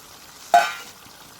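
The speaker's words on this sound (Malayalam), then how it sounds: "എന്നിട്ട് നല്ലോണം കപ്പലണ്ടി ഇത് റോസ്റ്റ് ചെയ്ത് പൊടിച്ചത് തൂവിട്ട് നമുക്ക് നല്ലോണം ഇളക്കാം" A single short stir of ridge gourd masala sprinkled with roasted ground peanuts in a pan, a brief scrape with a soft sizzle that fades quickly into quiet.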